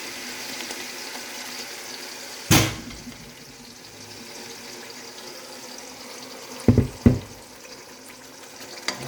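Tomato poured into a hot pan while cooking potato roast with chicken gives a steady soft frying hiss, broken by a sharp clatter early on and a pair of quick knocks near the end, with no voices.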